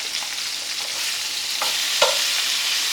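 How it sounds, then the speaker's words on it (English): Meat browning in olive oil in a pot, with sausages nearby: a steady close sizzle of frying runs throughout, broken by a couple of brief stirring or turning clinks near the end. "Put some olive oil in there already. You can see our meat still browning."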